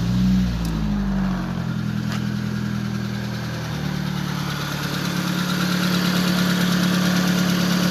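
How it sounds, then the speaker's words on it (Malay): A car engine starts with a brief cranking burst and then settles into a steady, loud idle with a constant low hum, heard close up with no talking. "kita nak kena start enjin kereta"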